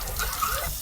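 Water carrying small white mineral chunks gushes steadily from the drain of a flushed RV water heater, a continuous close splashing rush with no break across the brief moment.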